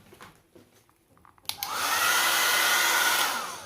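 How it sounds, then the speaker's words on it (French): A hair dryer blasts steady, loud airflow for over two seconds as it dries an acrylic-painted craft project, after a quiet stretch with faint handling clicks. "on sèche avec le sèche-cheveux"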